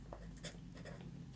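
Pen or pencil writing a maths solution on paper during a Grade 4 lesson on subtraction and rounding, a brief, very faint scratching close by with no talk over it.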